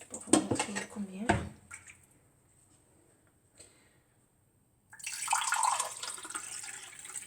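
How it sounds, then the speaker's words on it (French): Water from a glass splashing into a pot, heard in two close, noisy bursts with a near-silent gap between them, mixed with light clinks of kitchenware. "Donc là, je vais y en rajouter un autre verre d'eau."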